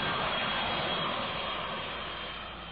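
A Burnelli UB-14 airliner on takeoff, a loud, steady engine roar that fades slightly as it goes.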